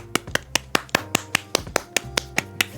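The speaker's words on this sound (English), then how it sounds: "That's a clap for House Firehawk" Sharp, evenly spaced single claps, about a dozen in a steady rhythm, close and clear, applauding House Firehawk at a PAINTSLAM community showcase.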